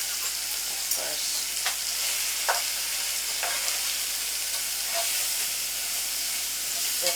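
Dry fish frying in a pot of hot oil for white okro soup, a steady broadband sizzle with faint stirring scrapes and small pops, close and continuous with no talking.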